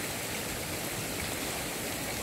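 Steady rain falling outdoors at a fishing spot in a village rice-field area, a continuous dense hiss of drops with no breaks, moderately loud and close, with no talking.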